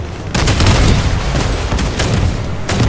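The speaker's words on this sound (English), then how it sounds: "I think it's just literal cannons." Heavy cannon fire in the Crossout vehicle combat game, dense booming blasts stacking over a constant loud rumble of battle.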